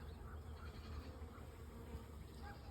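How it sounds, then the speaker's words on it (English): A swarm of honeybees flying around a tree limb, making a continuous faint buzzing hum with individual bees droning past now and then. "See all these bees are flying around now?"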